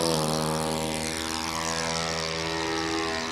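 An RC model airplane engine running at full power, a loud, steady, high-pitched propeller drone held close by with no break.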